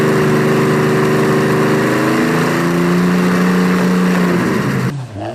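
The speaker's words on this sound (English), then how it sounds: "friend Ben ran his Rolls-Royce Merlin engine outside of his house" A Rolls-Royce Merlin aero engine runs outside a house, a loud, continuous droning roar with steady harmonic tones that cut off abruptly near the end.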